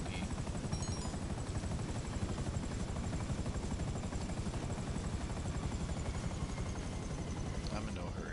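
A helicopter in the video game GTA V gives off a loud, continuous, fast rotor chop with a steady whine, close and unbroken throughout.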